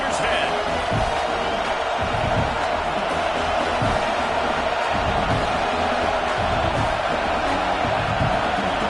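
A football stadium crowd roars in a steady, dense wall of noise during a fourth-down field goal attempt, with a commentator talking over it throughout.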